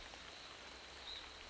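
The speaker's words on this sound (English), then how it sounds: "that's the sound of rain in a mangrove forest" Soft, steady rain falls in a mangrove forest along the coastal channels of South Florida, a faint even hiss of drops with no voices.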